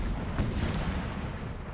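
Distant musket volleys and booming artillery rumble in a Napoleon Total War battle, a dense continuous low roar of gunfire with no clear separate shots.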